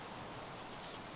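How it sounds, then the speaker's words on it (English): Steady rain from the Escape from Tarkov game world, a soft even hiss of falling drops heard quietly in the background with no talk, lasting about a second. "I think I can hear rain."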